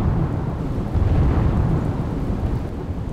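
Torrential rain pours down in Junagadh, Gujarat, with a dense, constant roar and rolling thunder rumbling underneath, loud and continuous with no voices.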